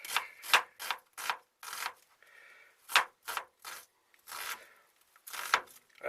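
Knife slicing a red onion on a board while cooking bolognese: a run of crisp, close cuts and rubbing strokes in an uneven rhythm, with brief pauses between, and no talking.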